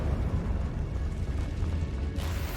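A Confringo blasting spell from Hogwarts Legacy bursts in a rumbling explosion with a sustained low roar, ending in a sharp bright crack near the close.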